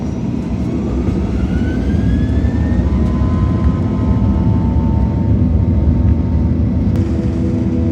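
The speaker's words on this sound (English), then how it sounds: "There was a bit of queue for departure before we lined up on runway 27L for an on-time takeoff." Boeing 737 NG jet engines at takeoff on runway 27L on a rainy night in Hyderabad: a loud, steady, broadband roar heard from inside the cabin, with deep rumble and a faint rising whine underneath, continuous throughout with no talking.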